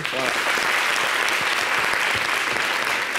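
An audience claps on a French holiday television show after news of qualifying for the Paris 2024 Olympic Games, a steady dense burst of applause filling the whole moment, with faint voices underneath.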